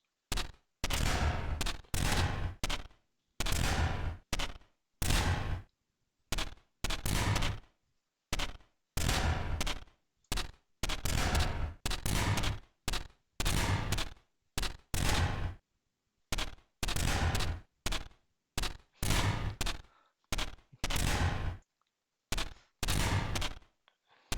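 Loud repeated blasts from cannon turrets in the video game Neon Defense, dozens of sharp shots in rapid irregular bursts with short silent gaps, no voices.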